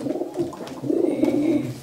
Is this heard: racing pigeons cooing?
yes